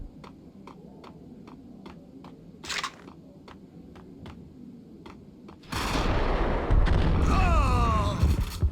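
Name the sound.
grenade explosions in a video game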